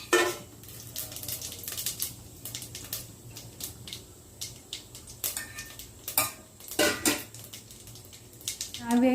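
Whole spices fry in hot oil and ghee in a pan for chicken pulao, giving a steady close sizzle broken by frequent metal clinks and scrapes of a utensil stirring against the pan.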